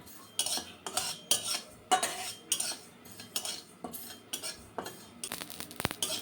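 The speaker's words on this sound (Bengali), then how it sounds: "এই যে ফুটফুট ফুটফুট করে ফুটছে একদম পোস্তগুলো" Poppy seeds dry-roasting on low heat in a pan for a Bengali sheem bhorta, giving a run of sharp, irregular crackling pops and clinks close by, with no talking.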